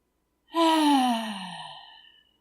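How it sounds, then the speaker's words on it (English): A single deep, close breath is released as a voiced, sighing exhale that starts strongly and trails off gradually, with silence before it. "So take a deep breath in."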